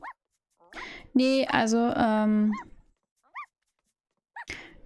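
Small dogs in The Sims 4 yip and whimper in short, high-pitched bursts at intervals, while someone speaks German over them.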